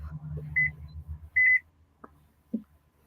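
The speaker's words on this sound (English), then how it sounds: "Sorry, that was my microwave." A microwave oven at home beeps twice in short, bright tones over faint background hum, followed by a couple of small clicks or knocks.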